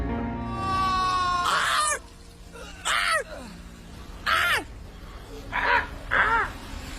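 A raven in the video game Assassin's Creed Valhalla gives five or six loud harsh caws spaced out in an uneven rhythm, close by, following a sustained tonal sound at the start.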